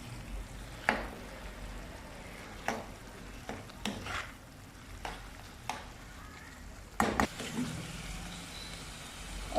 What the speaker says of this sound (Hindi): मटर डालने के बाद इसको अच्छी तरह हम भून लेंगे।